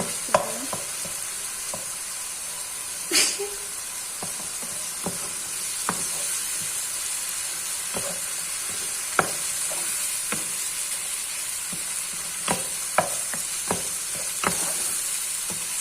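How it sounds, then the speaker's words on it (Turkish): Minced meat sizzles and fries in a pan with cooked tomatoes while a spoon stirs it, steady crackling hiss punctuated by irregular scraping clacks of the utensil against the pan, close and fairly quiet, no talking. "Kıymamızı ilave edelim. Şöyle güzelce her karıştırıyorum."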